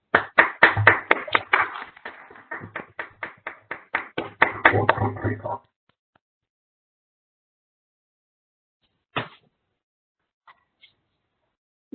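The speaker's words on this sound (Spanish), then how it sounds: "les damos un fuerte aplauso" Conference attendees give a short round of applause lasting about five seconds, a sparse group of distinct hand claps fairly close, then the room falls silent apart from a couple of faint knocks.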